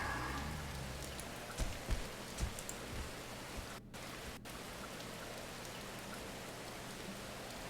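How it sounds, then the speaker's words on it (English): Steady, quiet rain falls throughout in a video game, with a few soft low thuds early on and no voices. "The rain's nice and quiet"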